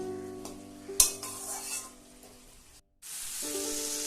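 Spice masala with potato and tomato cooks over a low gas flame, a soft sizzle under a sharp clink of utensil on pan, then a brief silence before the frying hiss returns.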